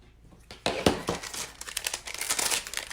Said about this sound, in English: Let's peel that. Peel and stick again.